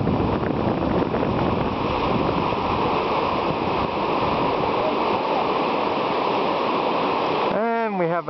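Rushing whitewater rapids on the French River during a canoe trip, a loud, continuous roar of churning water close by, cut off abruptly at the very end.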